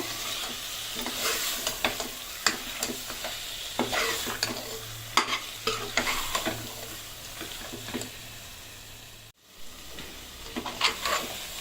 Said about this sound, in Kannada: ಇದು ಒಂದು 2 ನಿಮಿಷ ಫ್ರೈ ಆಗಬೇಕು ಅದ್ರ ಜೊತೆ.